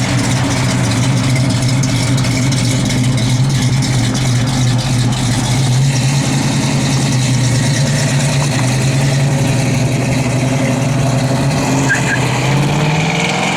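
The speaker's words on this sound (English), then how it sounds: "It's traffic." Traffic with car engines rumbling close by in a continuous, steady drone of low, throaty motor noise. No break or pause in the sound.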